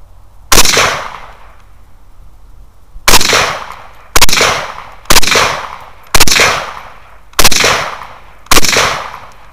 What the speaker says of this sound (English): Feels like I'm shooting high.